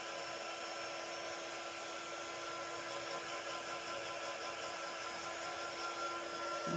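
A hair dryer runs continuously at close range, a steady loud whirring blow with a fixed tone, drying damp mixed media card.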